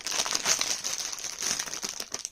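Plastic bags crinkling and rustling as toys are handled, continuous close crackle filling the whole moment with no talk over it.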